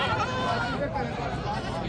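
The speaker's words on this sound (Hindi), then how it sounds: "ये बकरी है जो माशाल्लाह से दूध वाली है जी" Dairy goat at a busy livestock market in Dina, bleating in a steady wavering cry close by, under a continuous crowd murmur and nearby talk.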